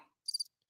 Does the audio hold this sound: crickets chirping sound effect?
yes